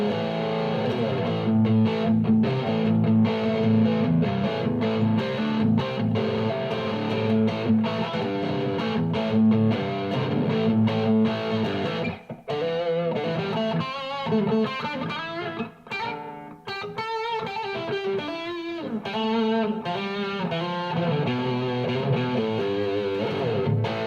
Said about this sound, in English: So this has got more gain, more distortion.